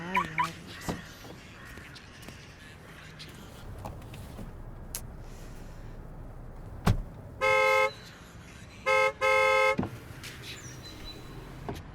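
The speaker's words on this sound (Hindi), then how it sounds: "कब से हॉर्न बजा रही हूँ, सुनाई नहीं देता क्या?" Car horn honks in three sharp blasts, one short then two longer, cutting over a low street and engine rumble.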